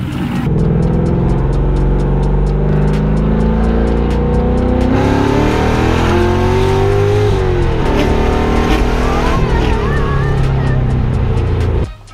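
A V8 from an LS swap in a BMW E36 revs hard under throttle, its loud engine note rising and falling continuously with tire and mechanical noise throughout, close by and dominant.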